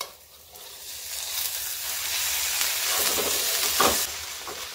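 Fresh bathua leaves dropped into a pan of hot frying spices for Rajasthani kadhi, a soft hiss swelling into steady, loud sizzling with a brief sharper burst near the end, no talk.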